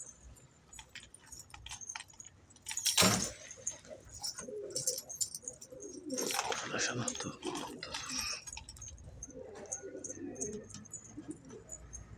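Pigeons, including a young Palestine-breed pigeon, coo softly amid rustling and flapping, with a sharp clatter early on; background noise continues between calls.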